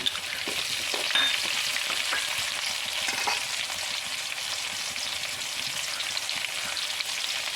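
Finely chopped ginger, garlic and green chili sizzle steadily in hot oil for beetroot pickle, a close, bright frying hiss with occasional stirring scrapes and pops.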